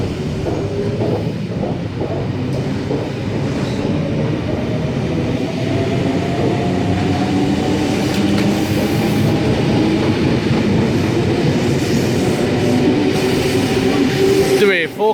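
A Sydney S47 suburban train pulls out of a platform at Green Square station with a loud, close, steady rumble and rising motor tones as it gathers speed, while faint voices sound at the start.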